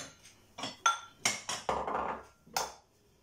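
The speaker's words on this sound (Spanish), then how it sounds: "vamos a batir un huevo" An egg is beaten in a bowl with a utensil, giving a quick run of close clinks and taps with a brief sloshing scrape in between, quiet and without speech.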